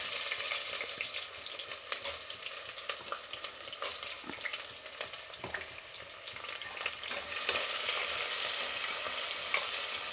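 Onions frying in ghee and oil with whole garam masala give a steady, close sizzle, with occasional soft stirring scrapes throughout and a slightly louder, fuller crackle near the end.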